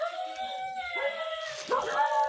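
Several dogs howl together in long sustained wavering tones, then break into a rougher yelping bark near the end, fairly close and noisy outdoors.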